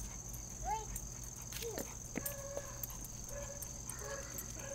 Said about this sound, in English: There's Chloe dog.